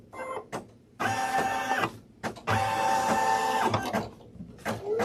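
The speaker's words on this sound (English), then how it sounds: "this step here is just going to stitch a little finishing line around the bottom of the nose." An embroidery machine stitches a finishing line on a felt mask in loud, close bursts of rapid mechanical whirring and clatter, separated by short pauses and clicks, with no talking.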